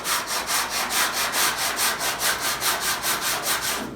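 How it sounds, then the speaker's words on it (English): Hand sanding the body panels of a 1973 Toyota Celica under restoration, with steady back-and-forth crisscross strokes making a rhythmic scratchy rasp about four strokes per second, close and clear with no talking. "It does not take long sanding this way. And make sure you keep crisscross stroke."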